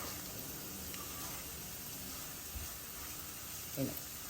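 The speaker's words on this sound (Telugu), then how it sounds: "ఇంకొద్దిగా వేగనిద్దాం వెల్లుల్లిపాయ పేస్ట్ బాగా ఎర్రగా వేగిపోయిందండి" Ginger-garlic and onion paste frying in a pan for a mutton gravy curry, giving a steady, soft, even sizzle and hiss throughout with a brief faint clink near the end.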